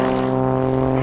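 An Xtreme Air XA41 aerobatic plane with a big three-bladed propeller hangs on its prop at an airshow, giving a loud, steady, buzzing engine and propeller drone with strong sustained harmonics, close and alone.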